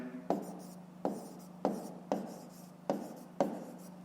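A pen writes numbers by hand on paper, six distinct scratchy strokes spaced at roughly even intervals, each with a sharp onset and quick fade, close and alone.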